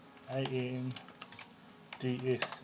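Commands are typed on a computer keyboard, a few light clicks and taps scattered between short stretches of a person speaking close by.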